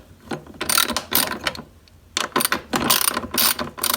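Hand ratchet with a 10 millimeter socket loosening two bolts on a SunJoe dethatcher, short bursts of rapid clicking in several separate strokes, close and crisp, with no talking.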